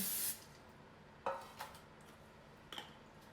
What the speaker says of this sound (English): spray my pan with PAM, with non-stick spray